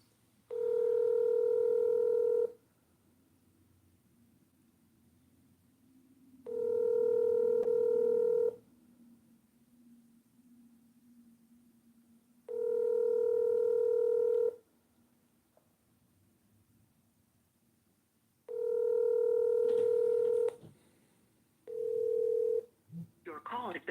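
Telephone call tones on a podcast: four long, loud, evenly spaced ringback tones about two seconds each, separated by quiet gaps, then a short final tone and the start of a recorded message, with faint talk underneath.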